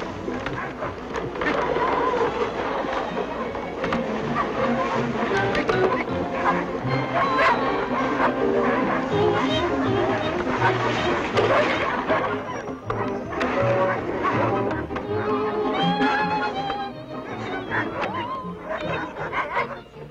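Sled dogs bark and whimper on an Alaskan trail in deep cold, a dense, continuous chorus of yips and bow-wows that stays loud throughout, with voices mixed in.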